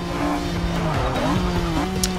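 A McLaren F1 braking hard in the Forza 6 racing game: engine note dropping through downshifts as tires squeal and skid in a short, continuous burst, close and fairly loud.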